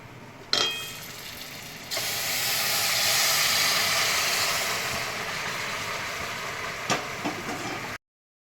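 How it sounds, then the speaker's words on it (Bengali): Sugar syrup poured slowly into hot oil tempered with spices for raw mango chutney: a sudden loud sizzling hiss swells, holds steady and gradually eases, with a couple of faint clinks near the end. "এবার আমি এই চিনির শিরাটা আস্তে আস্তে ঢেলে দেব।"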